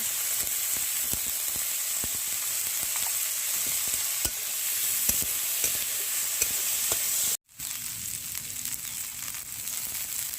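Green chillies, chopped onion and garlic frying in a pan while being stirred for a spicy mash, giving a steady close sizzle with scraping stir strokes, cut off briefly near the end before the frying resumes.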